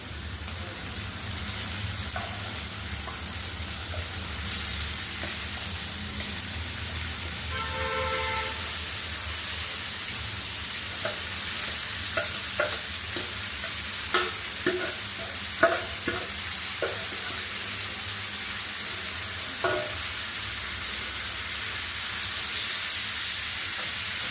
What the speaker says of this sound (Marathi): एकत्र हलवून व्यवस्थित मिक्स करून घ्यायचं आहे आणि पहिल्यांदा मोठ्या फ्लेमवरच परतून घ्यायची भाजी